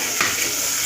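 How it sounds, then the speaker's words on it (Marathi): Chopped tomatoes frying over browned onion and mustard seeds in oil for misal, a steady broadband sizzle with one brief stir near the start, close and continuous. "टोमॅटो भाजून घेते"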